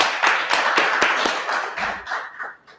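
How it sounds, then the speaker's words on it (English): A small group of people claps in a room, a burst of sharp, uneven handclaps that start strong and gradually thin out and fade over about three seconds. "Clap it up, everyone."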